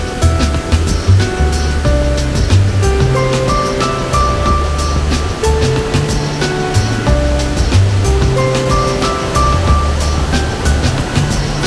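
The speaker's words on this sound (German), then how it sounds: "Alles in allem ein sehr schöner Wasserfall" Tiritan waterfall at Doi Inthanon in Chiang Mai rushes loudly and steadily nearby, a continuous roar of falling water with no talking over it.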